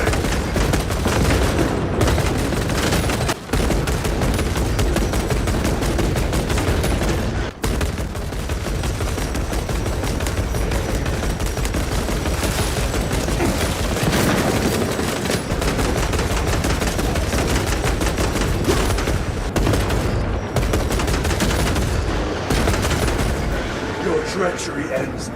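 Sustained gunfire from a Space Marine squad in Warhammer 40,000: Space Marine 2, a dense, continuous rattle of bolter fire and booms without pause, with voices shouting beneath the loud, steady barrage.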